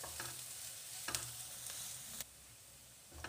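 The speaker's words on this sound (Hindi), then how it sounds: "प्याज भून गया है, ज़्यादा हमने नहीं भूनना, हल्का सा ट्रांसपेरेंट करना है" Sliced onions sizzle gently in a pan while being stirred, softened until just translucent for a chaat. A steady, faint frying hiss is broken by a few brief scraping stir strokes, with no voices.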